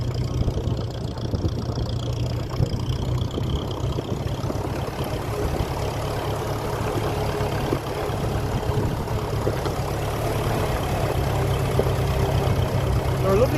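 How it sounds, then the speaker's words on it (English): A 1957 Ferguson 35 vintage tractor with a TVO engine idles steadily, a low, even rumble holding at a constant level throughout with no change in pace and no voices. "They're a lovely quiet engine"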